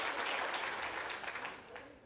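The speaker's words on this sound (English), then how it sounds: "can I get like a super high applause?" An audience at a talk on successful agents gives a burst of strong applause. The dense clapping is loud at first and gradually thins and fades toward the end, with some faint voices mixed in.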